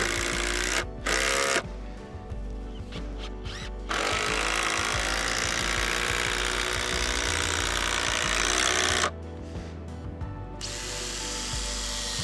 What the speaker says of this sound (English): I'm going to put these big timber lock screws down through to fasten the floor framing.